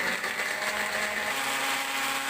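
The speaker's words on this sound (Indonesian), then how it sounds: "selanjutnya matikan blender." An electric blender grinds a spice paste with a little water for an Indonesian sour vegetable soup, giving a steady, loud whirring drone that runs unbroken from start to end.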